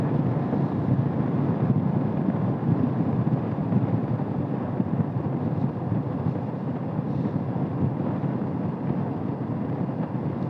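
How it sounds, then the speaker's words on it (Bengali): Strong wind buffeting the microphone on a solo motorcycle ride through Patratu Valley near Ranchi: a steady, loud low roar that rumbles unbroken throughout, with no talk. "খুবই বাতাস, ভয়ঙ্কর বাতাস এইখানে"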